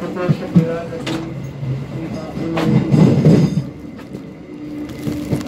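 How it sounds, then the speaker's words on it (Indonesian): Bengawan passenger train arriving at Cirebon Prujakan station, with rumbling wheels, metallic clatter and squealing tones that swell mid-clip and then ease. A voice is heard over the train. "Beberapa saat lagi kereta api Bengawan akan tiba di stasiun Cirebon Prujakan."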